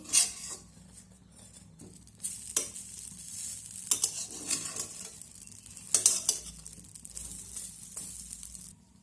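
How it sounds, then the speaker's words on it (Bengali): Brinjal slices frying without oil are flipped over in a pan, with scraping and clinking spatula strokes over a faint steady sizzle, the louder scrapes coming in bursts. "এবার অন্য পাশটা ভাজার জন্য আমি উল্টে দেবো"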